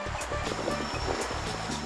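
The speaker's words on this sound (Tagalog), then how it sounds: "Medyo malakas ang alon guys ha" Strong surf crashing and churning steadily, a broad low roar of breaking waves with repeated surges and no voices.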